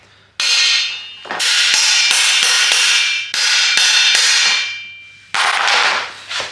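A hammer striking a peg to drive bottom bracket bearings into a custom BMX bike frame, loud ringing metallic clangs in a rapid series of blows, close and sustained with brief pauses.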